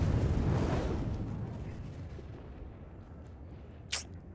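A missile explosion strikes a ship in Star Citizen, a loud low rumbling boom that slowly fades over several seconds, followed by a brief sharp crack near the end.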